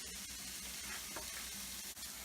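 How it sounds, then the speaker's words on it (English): Sausage just added to a hot frying pan gives a faint, steady hiss of sizzling with small crackles throughout, and no one speaks. "I'm going to go ahead and start my sausage into this other pan just to get things rolling along"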